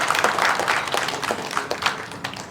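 An audience at a Women's Day felicitation programme breaks into applause, a dense, steady patter of many hands clapping throughout.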